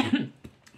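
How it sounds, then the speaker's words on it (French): A single short cough up close, followed by a brief quieter throaty sound. "c'est peut-être pas une coïncidence que je tousse"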